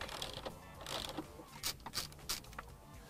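A ratchet working a bolt loose on a Jeep Wrangler, with a few quick, close bursts of clicking spaced by short pauses over faint background noise.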